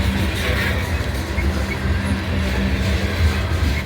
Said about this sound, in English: Fully loaded coal train.